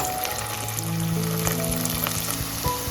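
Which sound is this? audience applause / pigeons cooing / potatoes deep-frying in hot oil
potatoes deep-frying in hot oil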